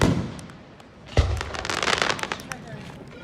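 Fireworks at a Niagara Active Hose Co. display: a deep boom lands after a lull, then a dense spray of crackling pops rattles on for the remaining seconds, with people's voices faintly in the mix.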